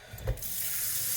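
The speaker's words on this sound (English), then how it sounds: "I am going to rinse the rice off" Tap water runs steadily into a bowl of rice being rinsed, a brief knock and splash at the start giving way to a continuous close hiss of flowing water.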